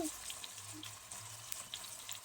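Red amaranth leaves fry in a pan with a soft, steady sizzle, quiet and close, with no voices.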